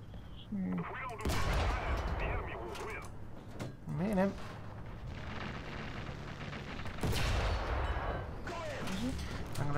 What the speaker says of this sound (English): You've got a T-50 trying to take pot shots at you.